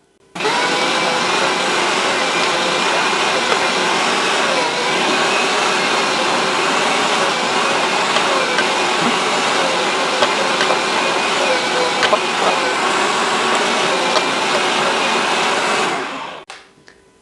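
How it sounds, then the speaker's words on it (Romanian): An electric food chopper whirs continuously while chopping onion, a loud steady motor hum that holds for about sixteen seconds and then winds down. "Și pornim mașina noastră de tocat."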